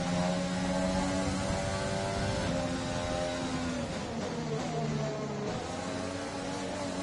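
An F1 2020 racing car in the video game, DRS open and rear wheels spinning, whines at a high, revving pitch with shifting engine tones and gear changes, loud and continuous with no talking.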